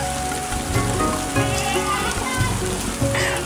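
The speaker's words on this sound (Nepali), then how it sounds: "पानी परिरहेको छ।" Steady rain falls, making a continuous close patter on surfaces that runs throughout, with some voices and other sounds faintly mixed in.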